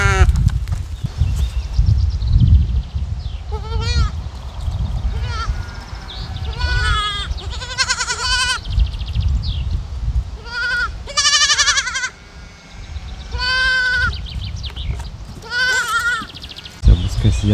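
Goats on a Belarusian farmstead bleat loudly and close by in repeated wavering calls, several overlapping, over a low rumble of outdoor farm background.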